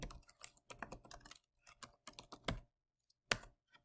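Computer keyboard keys typed in short irregular bursts with brief pauses, close and crisp, during a Python and Wing IDE setup; no voices.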